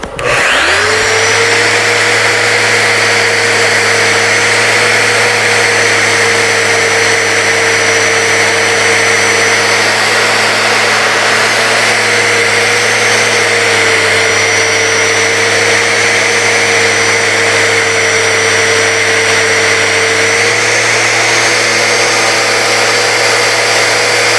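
A steady, loud mechanical whir from a lathe spinning at about 200 to 250 RPM runs continuously with a constant hum and a faint abrasive hiss of sanding, no talking.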